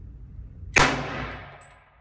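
A single sharp handgun shot fired from a standing position at an outdoor range target in Texas, a loud crack at mid-clip followed by a long fading echo, with faint background noise before it.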